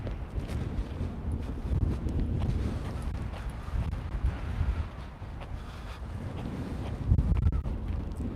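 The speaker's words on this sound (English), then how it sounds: "You folks can probably hear at least a little of the wind." Strong wind buffeting an outdoor observation deck, gusting and rumbling in uneven surges with a few louder blasts, no voices.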